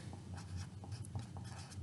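A Sharpie marker writing on a sheet of paper, giving close, steady scratchy strokes in short bursts over about two seconds with no talking.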